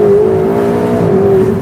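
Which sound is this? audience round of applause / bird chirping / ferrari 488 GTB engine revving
ferrari 488 GTB engine revving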